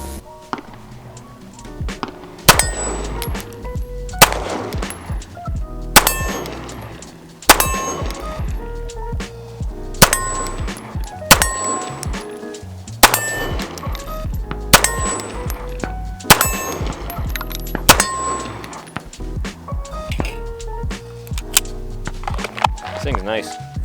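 A Rock Island Tac Ultra 9mm 1911 pistol fired at a range, roughly ten loud sharp shots at irregular intervals of one to three seconds, each followed by a ringing tail.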